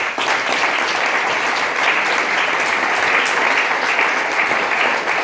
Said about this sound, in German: Einen großen Applaus einmal für unsere Jurymitglieder.